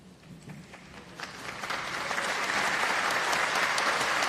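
Applause breaks out at a town meeting in Hamilton after a resident speaks against the school budget, starting with scattered claps and swelling into steady, loud clapping from the crowd.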